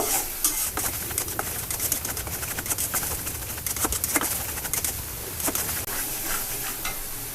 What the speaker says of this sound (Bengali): সবশেষে দিয়ে দেব তেল সুন্দর করে এটা ভেজে